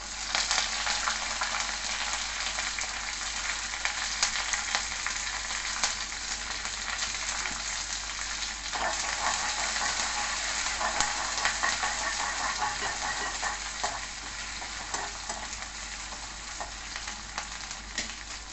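Green chillies, onions and curry leaves fry in a pan with a continuous hissing sizzle, a steady close crackle that holds at an even level for the whole stretch with occasional faint stirring and no voices.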